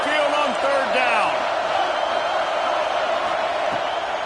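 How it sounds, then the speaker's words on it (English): A steady, loud roar from the Alabama Crimson Tide football crowd fills Saban Field on third down, with whistle-like calls rising briefly near the start before settling into a sustained wash of noise. "The Tide crowd rolling noise down onto Saban Field on third down."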